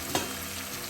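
Ginger, garlic and green chili paste sizzling in a hot pan for fish curry, a steady close hiss of frying, alone.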